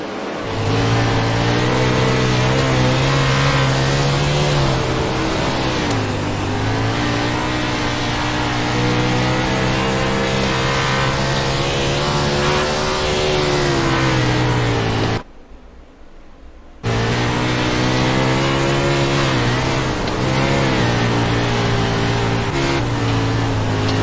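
Wingless sprint car engines racing in the iRacing simulator, a loud sustained roar with rising and falling revs as cars accelerate and lift, briefly cutting out to near silence midway, no talk.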